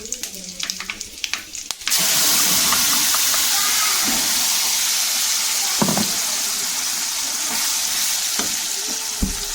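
Mustard seeds, urad dal, cumin and black peppercorns sizzle hard in hot oil as a tempering, a steady bright hiss with small crackles and a few stirring knocks, after a quieter opening moment.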